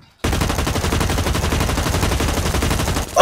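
Relentless automatic gunfire in BlackLight Retribution. Loud, close and unbroken for about three seconds, it starts abruptly after a moment of near silence.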